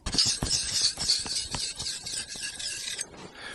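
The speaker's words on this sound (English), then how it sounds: "Then turn it over and do the back with a finer stone." A drawknife blade is rubbed against a sharpening stone in repeated rasping strokes, a steady scraping rhythm close by with no talking.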